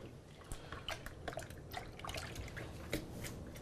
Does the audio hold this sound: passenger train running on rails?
no